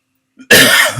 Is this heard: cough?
yes